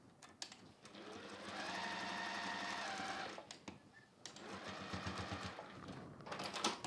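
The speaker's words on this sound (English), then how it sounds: "sewing down to where I left off sewing on those side seams" A sewing machine runs in steady bursts as it stitches the side seams of a foot-long flexi frame pouch, with a long continuous run, a brief pause, then a shorter stop-start stretch, close and clear with no talking.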